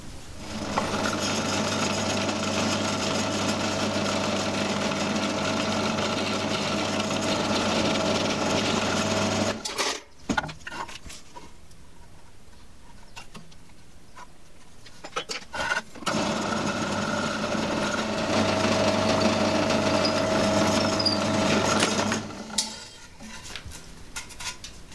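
A power drill bores a pivot hole into a wooden trigger for a Dark Ages crossbow, whining loudly in two long, steady bursts separated by a quiet pause of several seconds.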